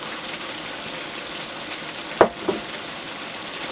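Fried ingredients are stirred into cabbage cooking in a pot for Liberian fried cabbage, a steady soft sizzle with two brief clanks of a utensil against the pot.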